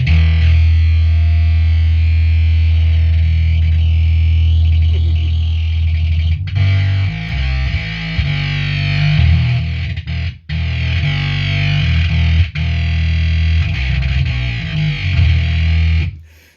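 Bass guitar driven through a Bog Beast fuzz pedal, a loud, thick, growling distorted tone with heavy low end and sustained notes, briefly broken by short gaps, played alone with no talking.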